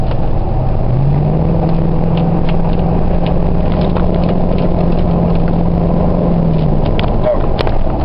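A 2004 Ford F-150 pickup's exhaust with a Thrush muffler rumbles low and steady from inside the cab while driving, its deep drone holding a sustained pitch with faint clicks and knocks.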